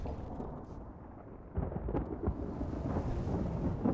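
Deep rolling thunder rumbles through a lightning storm over Mordor in a video game, a low steady roar that swells louder midway and keeps grumbling to the end.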